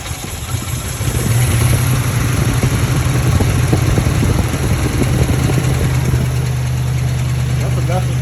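A Lincoln Town Car that won't start cranks over continuously while a spark tester is checked, a steady churning whir with a low rumble carrying on for several seconds under faint background noise.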